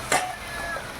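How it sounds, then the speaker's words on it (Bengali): Black cumin seeds sizzling in hot oil for tempering, a steady close crackle with a short utensil clink or stir near the start. "এদিকে দেখো কালো জিরা ফোড়ন দিয়েছি"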